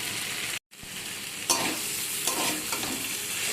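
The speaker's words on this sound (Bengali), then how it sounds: "দিয়ে 2 মিনিট এভাবে আমি সব কিছুকে নাড়াচাড়া করে নেব।" Boiled potatoes are stirred with spices in a hot pan, with a steady sizzle and scraping strokes of a spoon after a momentary silence, several louder scrapes standing out.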